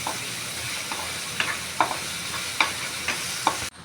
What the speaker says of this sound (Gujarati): તો એને મિક્સ કરતા જઈશું જ્યાં સુધી ડુંગળી થોડી બ્રાઉન ન થઈ જાય ત્યાં સુધી